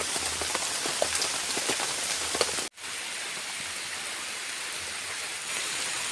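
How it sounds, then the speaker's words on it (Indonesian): Heavy rain pours down at a campsite in a dense, loud, steady hiss with scattered pattering drops, briefly dipping after a few seconds before resuming at full strength. "Wow, hujannya sangat lebat sekali sahabat."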